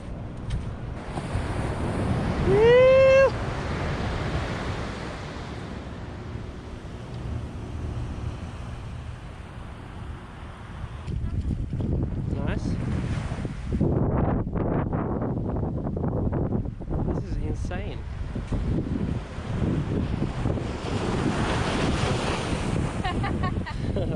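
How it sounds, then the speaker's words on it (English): Ocean waves roll and break on a rocky, coarse-sand Western Australian shore near Yallingup, a loud continuous wash of surf with gusts of wind buffeting the microphone. "And then this insane ocean."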